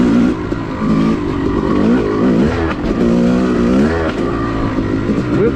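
A Yamaha YZ250 two-stroke dirt bike ridden on a wooded OHV trail, its loud engine buzzing close and constant while the revs rise and fall through throttle blips and shifts, with no voices over it.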